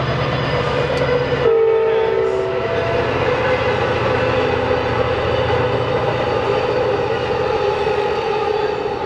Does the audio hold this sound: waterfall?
no